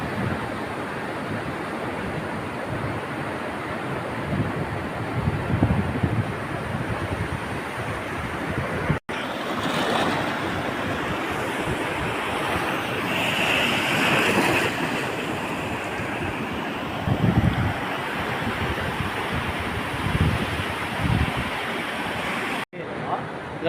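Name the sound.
sea waves at an island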